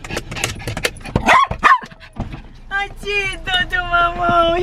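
Household dogs bark and yip at a house arrival, a few sharp barks early followed by higher whimpering yelps toward the end, close by and fairly loud, with people talking nearby.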